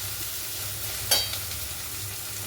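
Potatoes fry and brown in a pan with a soft, steady sizzle, broken near the middle by one brief scrape of stirring, fairly faint and close with no voices.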